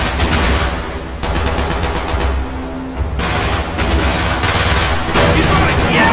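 Sustained automatic gunfire in the Call of Duty Black Ops video game, dense rapid bursts firing almost continuously and loudly, with shouted voices mixed in.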